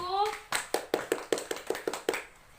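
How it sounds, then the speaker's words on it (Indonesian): A class claps for a presenting group during a micro-teaching lesson on cooperatives: about nine distinct, fairly loud claps in a steady rhythm, following a brief voice at the start. "Beri aplaus dulu untuk kelompok 1."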